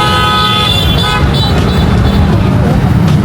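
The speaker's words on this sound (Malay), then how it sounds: "Banyak motor-motor." Busy Jakarta road traffic with many motorbikes, a loud continuous engine rumble with a horn toot early on, while voices talk over the noise.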